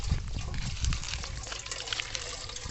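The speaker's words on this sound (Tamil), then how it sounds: "ஃபஸ்ட்டு குண்டான வச்சுட்டு தண்ணி ஊற்றணும் கொஞ்சம்" Water poured into a cooking pot at an outdoor village cooking spot: a close, splashing gush with bubbling trickles that gradually settles into a steadier flow, with no talk.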